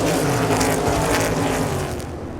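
NASCAR stock cars roar at full speed during the Bass Pro Shops night race, a dense, steady engine drone that stays loud throughout with no clear impact standing out.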